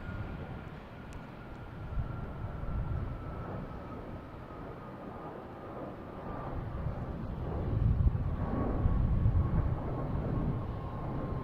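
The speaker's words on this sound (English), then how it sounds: "Here we have United Airlines heading to Chicago." A United Airlines airliner at Boston Logan Airport gives a low, steady rumble heard from a distance, building slightly toward the end, under wind noise with no talk.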